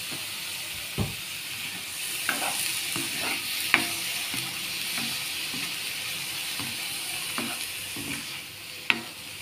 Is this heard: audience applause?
no